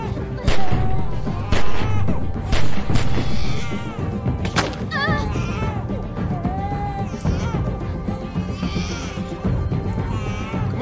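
Several sharp gunshots go off in The Walking Dead video game, scattered among tense character voices and cries.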